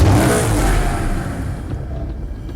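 A Maserati GranCabrio four-seat convertible sports car engine roars loudly, with a steady, fading rumble over a couple of seconds.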